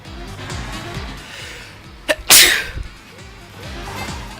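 A single sharp sneeze bursts out midway, preceded by a short intake, heard close up against quiet game music in the background.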